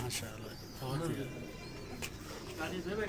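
Rooftop loft pigeons cooing softly in low, throaty bursts, faint and close, with a few sharp background noises between calls.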